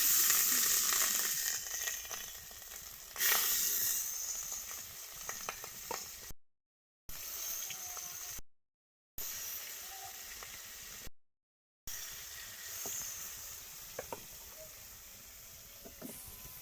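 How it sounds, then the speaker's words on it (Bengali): Fish coated in turmeric, salt and chili powder fries in a pan with a steady, bright sizzle and hiss, louder at first and at one sharp spitting burst, then settling lower, broken by a few short silent gaps. "এখন মাছটাকে ভাজবো"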